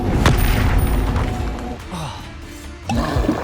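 A Confringo blasting spell explosion in Hogwarts Legacy, a loud booming blast with a sharp crack at the start, a rumbling roar that fades, then another heavy hit near the end, with a voice speaking partly under it.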